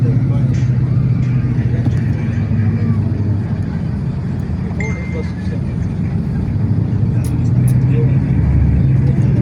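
Bus driving slowly on a hot day, a steady low engine rumble and road drone continuing throughout, with faint rattles and people talking quietly inside.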